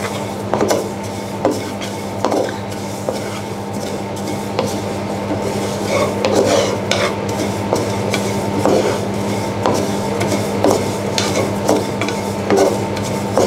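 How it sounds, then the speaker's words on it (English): Sesame seeds being dry-roasted and stirred in a pan over a low gas flame, with a steady soft scraping rasp and light rustle and occasional sharper scrapes, close and continuous, no talking. "we roast sesame seeds first with the low gas."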